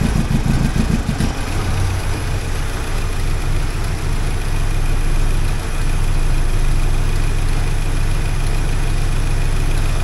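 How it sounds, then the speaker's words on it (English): The engine of a 1979 Porsche 924 with fuel system trouble, running steadily: a loud, close, constant engine drone that holds at one level with no clear rise in pitch. "I'll just watch this while I rev it and see what happens"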